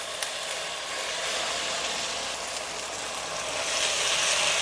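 Washed rice roasting in a pan of spice paste for a masala rice with field beans, giving a steady, broad sizzling hiss that swells slightly toward the end, with no talking.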